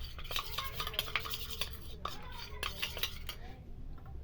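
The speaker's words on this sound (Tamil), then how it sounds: "இப்போ இதை சேர்த்து நல்லா மிக்ஸ் பண்ண." Spoon scraping and clinking against a bowl while mixing gram flour and curd into a thick face pack paste, a steady run of close, light scrapes and taps.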